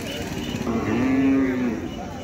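A long-bodied calf at a Khillar cattle market near Sangola gives one loud, drawn-out moo up close, rising from a noisy crowd murmur and fading back into it.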